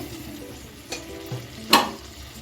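Eggplant sautéed with sour yogurt in a pan, a low sizzle under a few brief stirring scrapes and one sharper clink of the spoon near the end.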